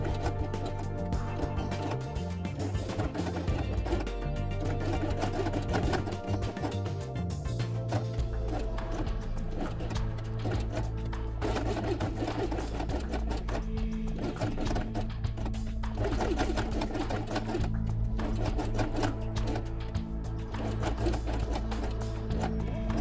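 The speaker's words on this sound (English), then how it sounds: "sew it along the edge with white thread." Sewing machine stitching felt with white thread for a felt dollhouse quiet book: a steady, mechanical whirring hum with rhythmic needle clatter, running continuously and fairly close throughout.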